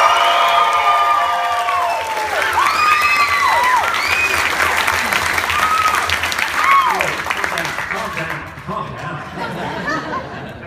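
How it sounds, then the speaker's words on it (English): A crowd at the Archie Comics panel at San Diego Comic-Con cheers and applauds loudly, with whoops, whistles and laughter mixed in. The noise thins toward the end as voices take over. "I always ask for a bigger cheer, but that was pretty good. But let's do it again."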